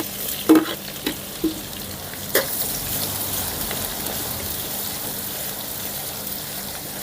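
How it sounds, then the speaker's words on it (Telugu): Finely chopped onions fry for upma in a hot pan, starting with a few sharp clatters as they go in, then settling into a steady close sizzle with light stirring and no speech. "ఇప్పుడు సన్నగా తరిగిన ఉల్లిపాయ ముక్కలు కూడా వేసేసుకున్నాం"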